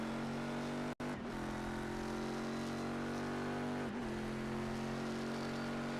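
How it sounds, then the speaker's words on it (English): A race car's engine drones steadily through a downshift into the hairpin at Daytona during a sports car championship race. One sharp break marks a gear change, and pitch dips briefly later on. It is loud and continuous, with no talking. "He's downshifting kind of early, using the gears to stop the car into the hairpin there."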